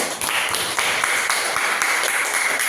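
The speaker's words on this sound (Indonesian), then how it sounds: "Tepuk tangan untuk kelompok 1." A classroom group applauds a student team after a craft presentation, a steady, crackling patter of many hands clapping together with little talk.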